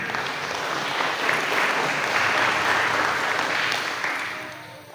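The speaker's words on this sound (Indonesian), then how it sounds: "Mohon tepuk tangannya." At a zero-bullying declaration gathering in a subdistrict hall, an audience breaks into a full round of applause that swells, holds for several seconds, then fades near the end, with no speech over it.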